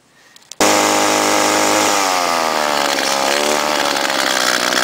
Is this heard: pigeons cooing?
no